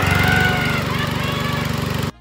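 A lawn mower engine runs loud and close with a steady, rapid chugging pulse, then cuts off abruptly at the end.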